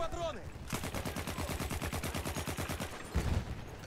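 Rapid automatic gunfire from the World War I shooter Battlefield 1 rattles in a steady, evenly spaced stream for about two and a half seconds, then stops before a short low thump.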